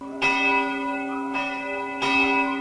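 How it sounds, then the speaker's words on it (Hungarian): Three strokes of a recorded church bell played from a CD through loudspeakers in a church tower, each with a bright metallic tone that hums and lingers before the next strike. "ehelyett más modern templomokhoz hasonlóan hangfalakból szól CD-ről a harangozás"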